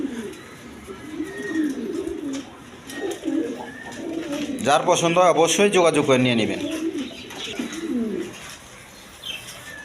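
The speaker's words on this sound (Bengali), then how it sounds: "এখানে এক পেয়ার শৌখিন কবুতর আছে" Soft cooing and occasional chirps from a pair of fancy pigeons sound close by, under someone talking steadily over a low background hum.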